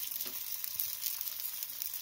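Parotta dough frying on a hot, lightly oiled griddle stone gives off a steady, close sizzle with bright crackling spatters throughout, no voices.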